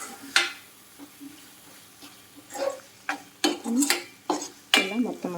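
A spoon scrapes and taps a pan while poppy seed curry fries in oil, irregular clinks and stirring scrapes over a faint sizzle, close and moderately loud.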